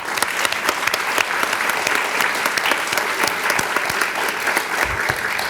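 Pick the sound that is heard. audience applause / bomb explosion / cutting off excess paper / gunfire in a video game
audience applause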